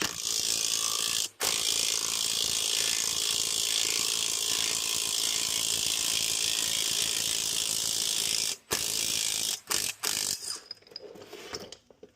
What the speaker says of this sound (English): We're using the impact.